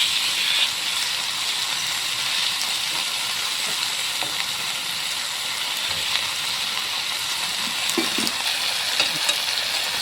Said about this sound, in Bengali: সবজির সঙ্গে মিষ্টি কুমড়ার ডোগা কচু বেগুন মিশিয়ে নেবো